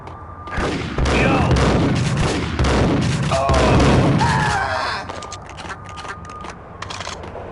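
Video game gunfire from Max Payne: a dense, loud barrage of shots and booming impacts for several seconds, thinning to sparser bursts toward the end.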